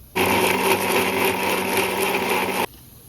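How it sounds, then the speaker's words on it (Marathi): A mixer grinder grinding crab legs fine whirs loudly at a constant pitch for a few seconds, then cuts off abruptly to quiet room noise. "हे जे कुर्ल्याचे पाय ते आपण मिक्सरमध्ये बारीक वाटून घ्यायचे"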